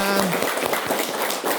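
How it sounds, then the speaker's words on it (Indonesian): Studio audience applauds during an Indonesian program about honoring orphans, a dense, steady wash of clapping that runs the full length with a voice briefly over the start. "Masya Allah, tepuk tangan."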